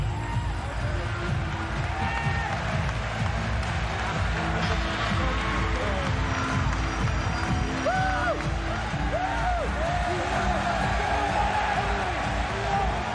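Crowd noise fills the arena at a Pride mixed martial arts event, a steady roar of cheering and whooping that holds loud throughout with swelling shouts rising above the din.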